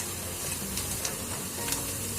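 Onions and curry leaves fry in a pan of oil while preparing kuzhipaniyaram, giving a soft, steady sizzle with faint crackles throughout and no talking.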